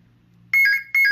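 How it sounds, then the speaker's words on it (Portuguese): An apartment intercom switchboard under repair gives two sharp, loud electronic ringing bursts in quick succession after a quiet low hum, each a warbling high-pitched trill. "E ele vai bipar e já é para tocar a campainha"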